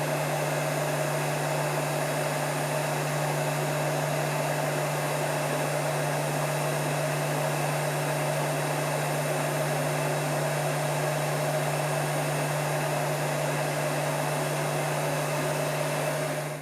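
Heat gun blowing hot air evenly around a heavy-duty battery cable connector, a steady, continuous whooshing hum with a constant low tone throughout, loud and close with no talking.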